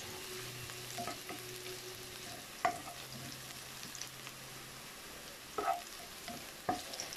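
Spicy corned beef fries in a pan until golden brown with a steady, moderate sizzle, broken by a few sharp clinks of a utensil stirring and scraping, and no one speaking.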